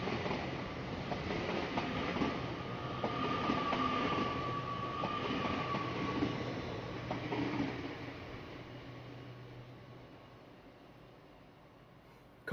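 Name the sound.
Avanti West Coast passenger train passing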